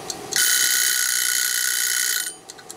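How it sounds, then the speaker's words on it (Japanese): An analog kitchen timer rings in the kitchen while spinach is being steam-boiled, a loud metallic bell-like ring that runs for about two seconds and then stops abruptly, with a few small clicks after it and no voices. "自分を信用しないでタイマーをかけています。 私はアナログのタイマーが好きです。"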